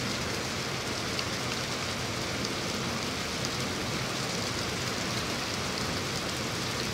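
Heavy rain pours down steadily and loudly, a dense unbroken hiss of falling water with no voices, continuous from start to finish.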